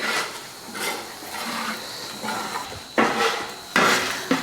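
Raisin pickle being stirred in a pot, a series of wooden and metallic scrapes and knocks in uneven bursts, fairly close, with a faint sizzle underneath and no speech.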